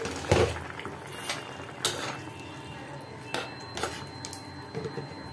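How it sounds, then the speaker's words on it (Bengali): A metal lid comes off a pot of simmering potato curry with a sharp clank, followed by light clinks of utensils against the pot over a steady background hiss. "এবার ঢাকা খুলে দেখছি কতটা হয়েছে।"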